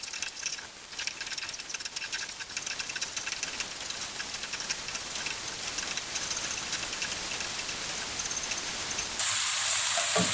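Galangal, lemongrass and asam kandis stirred in a pot for gulai labu air, giving a steady patter and faint sizzle that continues without pause, with a brighter hiss near the end.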